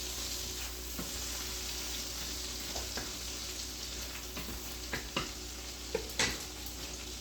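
Salmon sizzling steadily in a hot pan with cherry tomato halves, a continuous frying hiss broken by a few sharp clicks and taps of utensils, close and moderately loud with no talking.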